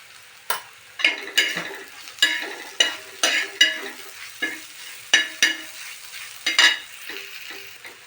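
Vegetables with onion and turmeric are stirred in a frying pan, giving a steady sizzle broken by a dozen or so sharp scraping strokes at an uneven rhythm, close and clear with no talking.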